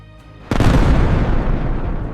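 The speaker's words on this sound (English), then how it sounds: "Every explosion carved only a few more meters toward the canyon." A rock-blasting explosion on a canyon road construction site hits with a sudden deep boom, then a long loud rumbling roar that slowly fades.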